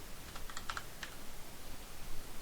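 Keys clatter in short irregular bursts as commands are typed on a computer keyboard for a text-based MUD game, close and fairly quiet with no voices.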